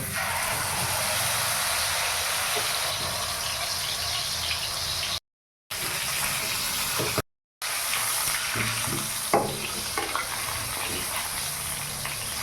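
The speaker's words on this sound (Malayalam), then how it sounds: "ഇതാ മീൻ വരക്കാനുള്ള എണ്ണ ഞാൻ ഒഴിച്ചിട്ടുണ്ട് അതിലേക്ക് നമുക്ക് ഇതാ നമ്മുടെ മീൻ ഇട്ട് കൊടുക്കാം" Rohu fish frying in hot oil in a pan, a loud, steady crackling sizzle that carries on throughout, cut by two short gaps of silence, with a few faint knocks near the end.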